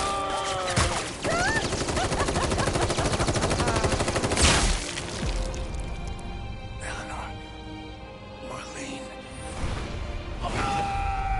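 Rapid gunfire in Final Fantasy VII Rebirth: a dense, loud automatic burst for several seconds, then scattered shots and game effects while voices talk.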